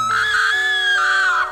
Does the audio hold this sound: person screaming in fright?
yes